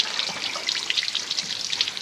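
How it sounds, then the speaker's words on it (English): Water steadily draining and trickling out of a BMW 114i body through removed drain plugs, a continuous hissing splatter close by with no talk. "I've removed the little drain plugs, and as you can see, all of that water there is draining out"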